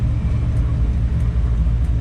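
Steady low rumble of a 1965 Chevrolet K15 pickup truck driving, its engine droning close and even throughout with no distinct gear change standing out.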